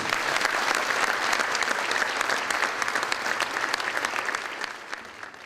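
Dense, steady applause from an audience fills the whole stretch after the Turkish ambassador Ömer Önhon's speech at an evening event in New York, easing off slightly toward the end.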